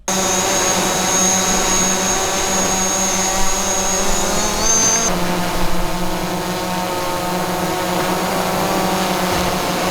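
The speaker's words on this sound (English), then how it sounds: "have a listen to what the Mavic 2 Pro sounds like compared to the original Mavic Pro" DJI Mavic 2 Pro and original Mavic Pro drones hover nearby with a loud, steady propeller whine, one high tonal drone note cutting out midway while the other hum carries on without talk.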